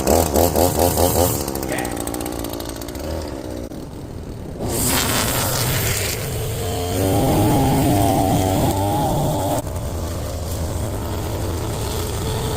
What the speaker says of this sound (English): I'm going to trim around the edges and keep the grass on the lawn